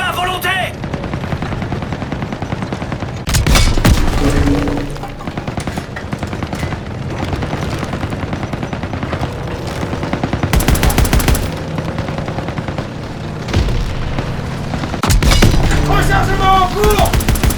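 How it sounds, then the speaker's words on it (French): Small arms gunfire in a Call of Duty WWII battle, with sustained rifle and machine-gun bursts crackling across the scene and louder close volleys breaking through several times, mixed with distant explosions and faint voices. "Tir d'armes légères, ils attaquent les nôtres."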